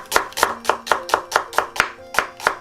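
Onion being finely sliced with a knife on a cutting board, about ten crisp, evenly spaced chops close up and alone.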